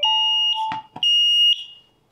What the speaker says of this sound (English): Press the test button on one of the fire alarm you have in the interlinked group.